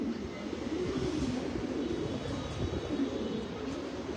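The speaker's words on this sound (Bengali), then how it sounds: "এই স্টকের কবুতরগুলো বাইরে ছাড়ছি।" Racing pigeons coo softly while being let out of their loft, a low murmuring burble that carries on steadily under a faint, continuous background hum.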